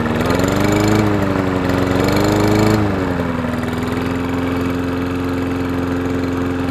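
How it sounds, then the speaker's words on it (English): Toro Recycler 22-inch lawn mower engine running steadily just after camshaft retiming, close and loud, with its pitch rising and wavering as it revs, then settling into an even, sustained drone. "Let's see if it works. Now we can rev it up."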